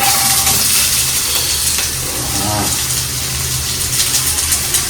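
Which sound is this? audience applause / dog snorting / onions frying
onions frying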